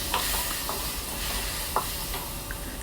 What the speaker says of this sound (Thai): เราก็จะผัดจนทุกอย่างมันเข้ากัน แล้วก็จะมีความหอมมากๆ